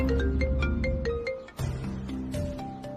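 A mobile phone ringtone plays a repeating melodic tune, loud and continuous, while someone is driving a car.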